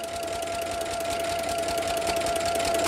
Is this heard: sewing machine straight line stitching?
yes